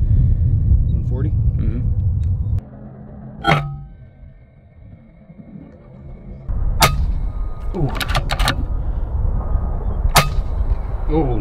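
An FX Impact M3 airgun fires at a squirrel outdoors: a few sharp, close cracks stand out over a steady low rumble of wind, with a quieter stretch in the middle and no talking.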